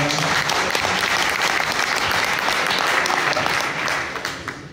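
A crowd applauds steadily, a dense wash of clapping hands that holds strong and then begins to thin out near the end.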